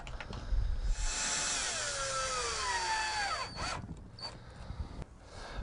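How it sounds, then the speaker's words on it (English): A power drill drives a self-tapping screw into the bottom rail of a large Clearview sliding screen door, whining steadily for about three seconds, its pitch dropping as the screw seats, then stopping, with a few brief taps afterward. "I've now just put the screw in on the bottom."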